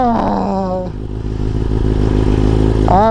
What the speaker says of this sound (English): the best part about it is that this bike is not ridiculously loud